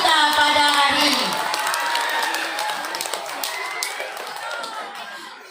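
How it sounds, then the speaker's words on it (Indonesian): Students at a school debate for student council candidates burst into loud cheering, shouting and clapping, and the noise gradually tapers off into scattered claps over a few seconds. "Kasih tepuk tangan dulu untuk paslon kita pada hari ini."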